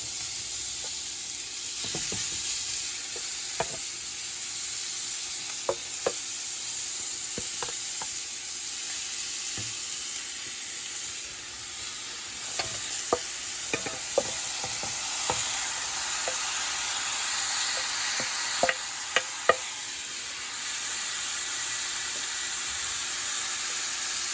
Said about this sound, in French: Nous ajoutons le saumon maintenant.